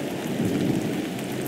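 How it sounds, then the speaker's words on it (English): Rain and thunder in the Roblox video game Disasterly Survival: dense, loud rain hiss with a deep rolling thunder rumble, steady and close throughout. "It's raining."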